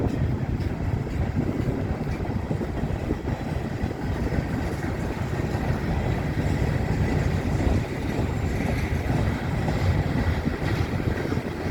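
Shortline mixed freight train of gondola cars rolling steadily past on the Lake State Railway in March, a continuous low rumble and rattle of wheels and couplings, close and unbroken throughout.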